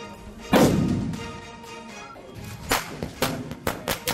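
A sharp bang at the start rings out into a long fading rumble, followed by a flurry of quicker, lighter cracks and pops toward the end.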